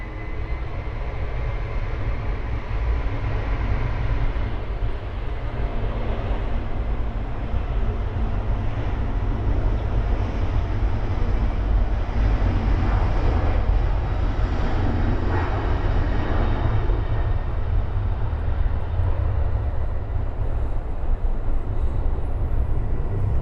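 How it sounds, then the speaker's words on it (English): An eleven-year-old Boeing 767-300 airliner at Miami airport produces a continuous deep engine roar, loud and steady throughout with a broad rumbling low end and no voices. "this beauty should be one of the youngest 767-300s out there"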